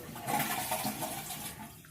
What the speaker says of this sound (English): we're going to do is flush the toilet and see if it returns to that same spot